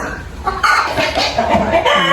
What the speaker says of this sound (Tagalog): Isang chicken dito.